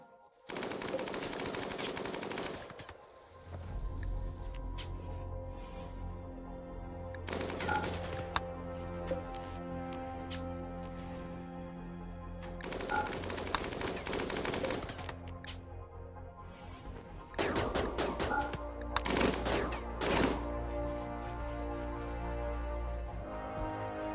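Gunfire between colonists in RimWorld plays as dense, continuous bursts of rapid shots layered over a steady game background, with several sharper volleys standing out, and no voices.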